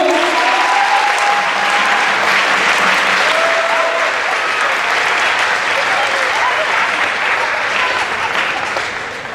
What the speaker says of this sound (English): let's give one more round of applause for our percussion ensemble